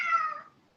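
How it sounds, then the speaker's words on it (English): A single cat meows, a short close tonal call that fades away within under a second, with no talking during it. "That was a cat."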